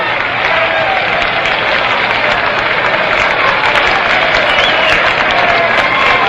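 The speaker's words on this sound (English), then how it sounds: "Casey Stengel is walking toward an exit way, rousing the crowd here as they crane up to take a look at the very colorful former Yankee manager." Stadium crowd at a 1961 World Series baseball game between the Reds and Yankees, a dense steady roar of clapping and cheering filling the whole stretch, loud and sustained with no clear voices.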